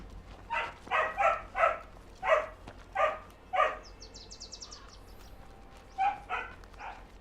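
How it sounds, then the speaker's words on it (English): A dog barks loudly indoors in quick bursts, about seven sharp barks in a row, then a pause and a few more barks, over a quiet background. "is barking very loudly"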